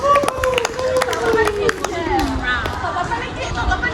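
Scattered hand claps from a class at the end of an Indonesian badminton lesson, a few sharp separate claps rather than a full roll, with people talking over them throughout.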